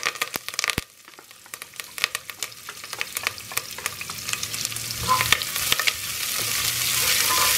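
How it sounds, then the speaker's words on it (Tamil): Onions and curry leaves sautéing in a pan for a Pongal kadamba sambhar, with a steady sizzle that builds in loudness and sharp scraping stir clicks throughout, no voices. "வெங்காயம் கொஞ்சம் வதங்கிக்கிட்டோம்"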